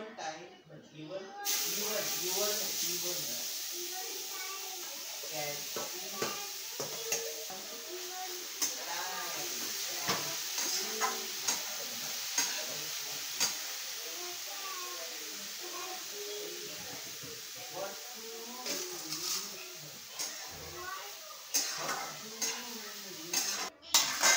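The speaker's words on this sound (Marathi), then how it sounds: "आता हे बीट, किसलेलं बीट सगळं आपण याच्यात टाकत आहोत। तूप चांगलं तापलेलं आहे।" Grated beetroot frying in hot homemade ghee while a spoon stirs it, with a steady sizzling hiss and clinks and scrapes against the pot, all under continuous talking.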